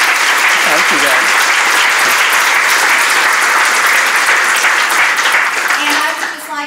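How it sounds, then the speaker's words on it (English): Sustained, loud applause from an audience after a talk on choice fills the room, dense clapping continuing steadily before tapering slightly at the end, with a voice briefly audible near the close. "I would like to ask everyone to give a round of applause to Marsha right now."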